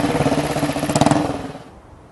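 A vintage AJS Big Port motorcycle with Brooklands history runs on the steep members' banking at Brooklands, its single-cylinder engine thumping rapidly and loudly nearby, swelling briefly and then fading away as it passes.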